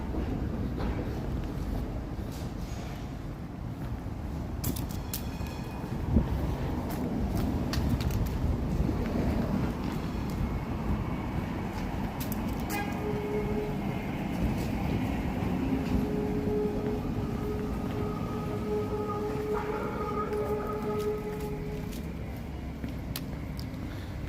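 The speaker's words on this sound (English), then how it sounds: "So this is an old school Los Angeles streetcar." An old Los Angeles Transit Lines PCC streetcar rolls along in San Francisco, a steady low rumble with wheel-on-rail squeals and rattles, some faint whining tones and wind noise on the microphone.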